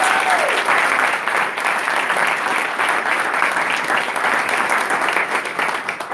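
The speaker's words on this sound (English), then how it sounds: "a round of applause for our finalists" Gala audience at an MLK leadership awards ceremony applauds the finalists, a loud, sustained burst of many hands clapping with faint voices underneath.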